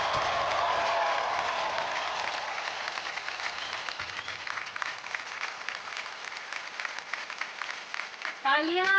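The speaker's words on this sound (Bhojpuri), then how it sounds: "तालियां रुकनी नहीं चाहिए, कम ऑन IBFA" An audience at the IBFA 2023 award show in Dubai applauds in a dense, loud wash of clapping that gradually thins and fades before a voice comes in at the end.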